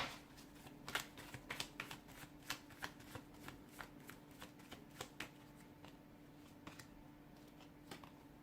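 Tarot cards shuffling by hand in a steady run of crisp riffling slaps and flutters, close and clear, with no voices over them.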